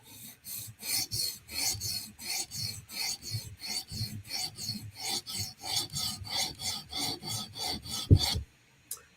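Knife blade, an S30V-style steel, drawn across a sharpening stone in about two dozen even rhythmic rasping strokes, close and loud, ending with a sharp knock and then quiet.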